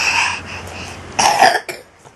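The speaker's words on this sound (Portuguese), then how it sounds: "Ih, tá tossindo?" A child coughs in a short burst of rough, throaty coughs near the mic, after a faint hiss of background noise.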